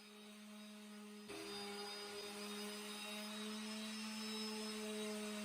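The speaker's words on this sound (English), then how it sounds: "next we're going to work on the sander just a little bit" A power sander starts up and runs on live-edge red cedar, debarking it with a steady, loud electric whine and hum, continuous throughout with no talking.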